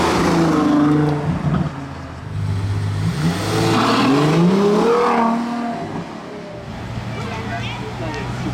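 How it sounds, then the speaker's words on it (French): A Bugatti Chiron's engine roars and revs among a crowd of luxury cars at Juan-les-Pins, a loud, swelling drone that rises and falls under people talking nearby. "le vrombissement du WCS quand même"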